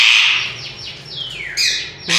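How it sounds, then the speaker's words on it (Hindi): Ringneck parrot screeching at close range: a rapid series of harsh, piercing squawks, loud and up close, with short gaps between them and no talking. "ये देखें कैसे चिल्ला रहा है"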